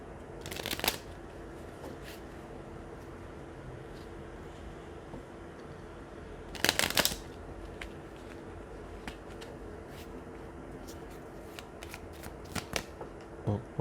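Flower Petals mini tarot cards being handled and shuffled, with two short bursts of riffling about six seconds apart and a few faint taps and card clicks between them, close by in a quiet room with no talk.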